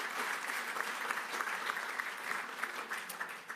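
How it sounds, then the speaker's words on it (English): Steady, dense applause from an audience at an actuarial association's annual meeting, sustained and even throughout with no voices above it. "Let's have a round of applause for all these."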